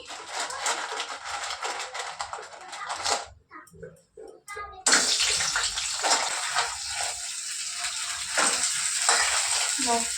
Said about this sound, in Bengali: তাহলে চলো কাঁকড়াটা ভেজে নিই